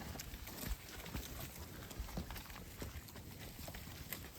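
Cows and calves being moved on foot, a faint irregular patter of hooves and shuffling steps over a steady noisy outdoor background, no talking.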